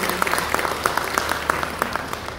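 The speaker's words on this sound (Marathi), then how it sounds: "आपल्या त्यांना भरघोस टाळ्या वाजवून आपण त्यांचं स्वागत करूया पहिल्यांदा" An audience at a spiritual discourse event claps to welcome a speaker, giving a steady patter of many hands at moderate distance that carries on evenly throughout.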